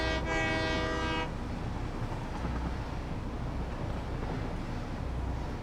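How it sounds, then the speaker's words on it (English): A train horn in the video game Satisfactory blares loud and steady for just over a second at the start, then gives way to a constant low rumble of machinery and ambient game noise. "it makes the honk noise every 15 seconds or so, that's a sad honk noise"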